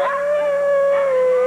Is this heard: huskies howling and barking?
yes